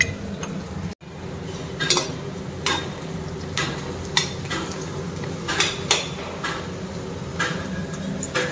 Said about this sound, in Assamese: এতিয়া আমি ফ্ৰাই কৰি আছোঁ এই ছাগলী মাংস